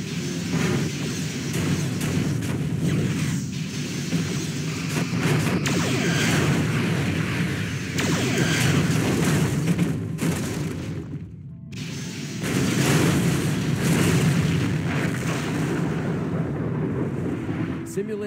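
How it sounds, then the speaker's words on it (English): Starship explosion from the Star Trek Bridge Commander video game as an enemy ship is destroyed, a sustained loud rumbling boom with a brief dip midway before the roar swells again, with a voice speaking over it. "Simulated enemy ship has been destroyed."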